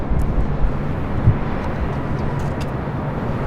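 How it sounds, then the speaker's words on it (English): A KLM Boeing 787-9 Dreamliner arriving from Amsterdam lands at LAX, a steady broadband roar of engine and wind noise heard at a distance, fairly loud and unbroken. "the second KLM flight of the day, Flight 603, a 787-9 Dreamliner coming from Amsterdam"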